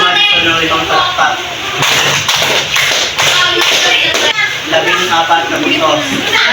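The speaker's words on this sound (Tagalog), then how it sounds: "Bigyan si Madison ng 5 palakpak" A group of children claps in a rhythmic pattern of sharp, loud hand claps during a classroom points game, with children's voices and chatter mixed around the claps.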